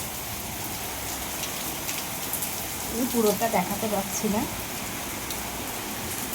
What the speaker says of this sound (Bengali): ভীষণ পরিমাণে এখানে বৃষ্টি হচ্ছে